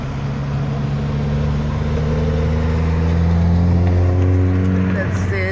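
A car hums along a road beside Lake Ontario, a steady engine and road drone heard from inside the car with a slight rise in pitch, while someone talks over it.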